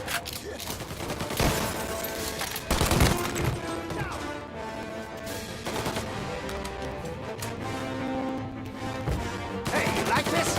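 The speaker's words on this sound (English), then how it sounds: "Gunshots heard." Gunfire erupts in Mafia: Definitive Edition, a dense run of sharp, loud shots and bursts firing close together over several seconds amid a busy, crashing soundscape.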